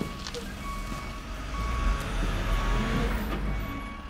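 A tow truck's reversing alarm beeps steadily while it hauls a car away on a street, repeated high tones riding over a low engine rumble and traffic noise, with no talking.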